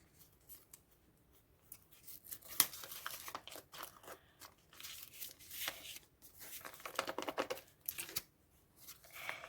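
A dark paper surprise packet is opened by hand, giving quiet, irregular bursts of crinkling, rustling and tearing paper with short pauses between them.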